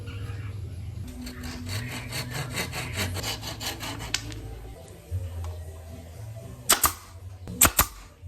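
A hand saw cuts through a wooden part for a bird cage with steady, rhythmic back-and-forth strokes close by. The sawing is followed by a few sharp knocks near the end.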